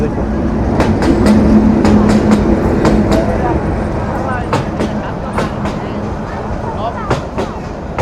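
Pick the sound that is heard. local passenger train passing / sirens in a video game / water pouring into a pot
local passenger train passing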